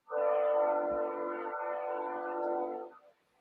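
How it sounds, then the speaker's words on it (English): A passing train sounds its horn in one sustained, chord-like blast lasting about three seconds, loud and fairly close, then cutting off. "But the train is back there."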